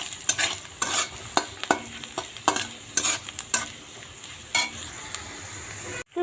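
Onions frying with salt and turmeric in a pan for an egg curry, stirred with a utensil: a soft sizzle underneath repeated sharp scraping strokes at an uneven rhythm, close and clear, ending abruptly.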